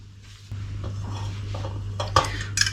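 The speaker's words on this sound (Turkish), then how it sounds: "Baldır için çok azıcık karıştırıyorum." A utensil stirring in a dish, light scraping and a few sharp clinks of metal against the bowl, close and clear over a low steady hum.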